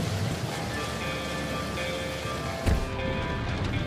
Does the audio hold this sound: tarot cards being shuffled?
no